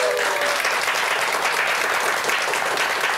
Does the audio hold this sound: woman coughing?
no